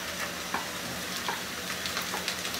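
Crushed garlic and onions fry in hot oil over high heat with a steady, close sizzle and a few faint stirring scrapes, and no voices.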